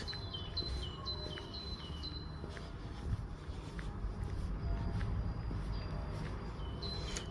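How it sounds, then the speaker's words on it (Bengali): Birds singing outdoors in spring among fresh green trees in Germany, with repeated high chirps and tweets from several birds over a soft outdoor background, moderately distant, with no voices. "বাহ, কত সুন্দর পাখির আওয়াজ।"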